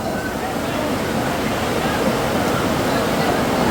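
Heavy rain pours outdoors at an Eid Milad un Nabi gathering, a loud, even roar of falling water with a voice speaking faintly beneath it.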